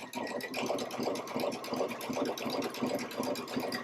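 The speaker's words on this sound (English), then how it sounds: "I'm going to stitch down the left side of that fringe" A Baby Lock sewing machine with a fringe/looping foot stitches down fabric fringe in a steady, fast, continuous mechanical whir with rapid rhythmic needle ticks, close and uninterrupted throughout.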